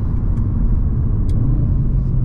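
An Audi RS3 with a 2.5-litre turbocharged engine of about 400 horsepower accelerates on the Fuji Speedway circuit, giving a loud, steady, deep engine rumble heard from inside the car with no talking.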